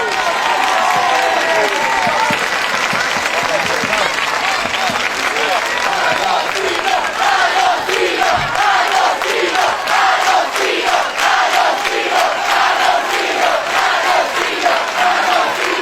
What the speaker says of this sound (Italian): Applauso alla mamma